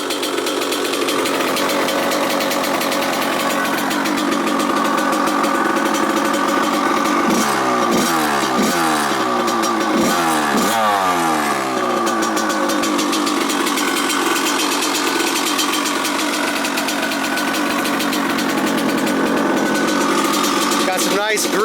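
A Kawasaki KX100 two-stroke dirt bike engine idles loud and close, a buzzy crackling rattle that rises in a few revving blips near the middle before settling back to a steady idle.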